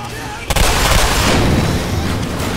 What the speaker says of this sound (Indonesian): Ada kembang api.